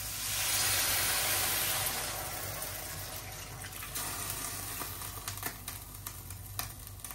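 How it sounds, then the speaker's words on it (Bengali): Water is poured into a pan of spice paste, a loud hissing gush at first that eases into a steady sizzle with small crackles and pops as the paste cooks. "এখন একটু জল দিয়ে একটু মশলাটা কষাই নিলাম"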